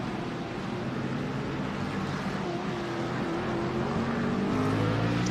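A Lauda Sport car with a 4-cylinder engine of over 300 horsepower drones steadily through an iRacing endurance race at the Nürburgring, a continuous engine hum holding fairly level pitch with no voices.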